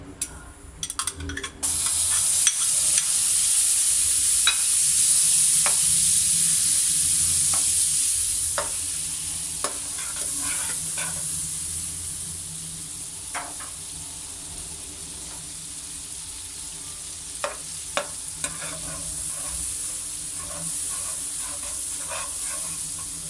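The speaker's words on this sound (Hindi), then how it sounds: "अब हम पैन में डालेंगे बटर" Butter sizzles steadily in a hot pan, a bright continuous hiss with occasional crackles and light scraping taps from stirring.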